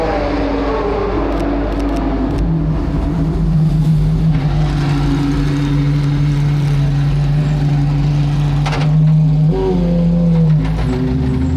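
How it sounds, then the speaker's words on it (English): A Pagani Huayra R supercar's loud, high-pitched engine drones past close by on a race track during a trackday, its tone holding steady then dropping and rising again as it passes, with no voices. "went back to the grid then to watch the Pagani Huayra R drive past"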